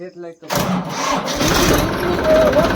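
A New Holland tractor engine cranks and catches after a short pause, then settles into a loud, steady running rumble close by, with people talking over it.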